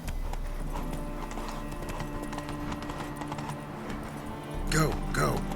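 Roach the horse's hooves clip-clop steadily at a gallop in The Witcher 3, a continuous rhythmic beat under ambient game sound, with a louder burst of movement near the end.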